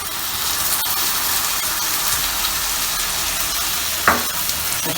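Tomato puree meeting frying onions in a pan sends up a loud, dense, continuous sizzle, close by and unbroken, with one brief clatter near the end.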